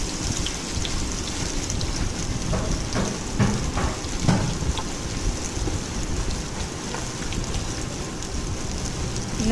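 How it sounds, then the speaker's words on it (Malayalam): Fish fries in hot coconut oil with a dense, continuous crackling sizzle, steady and close throughout, with a few slightly louder pops and spatters. "വെളിച്ചെണ്ണ ഒഴിച്ച് തിളയ്ക്കുമ്പം ഫ്രൈ ചെയ്തെടുക്കുക."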